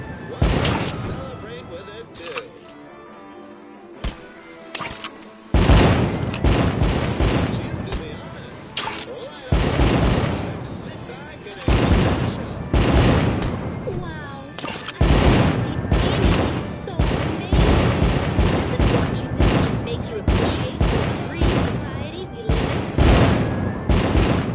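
Fireworks burst repeatedly inside The American Dream VR game, a rapid string of loud, close cracks and booms that starts after a quieter stretch and continues densely to the end, with a voice speaking at times.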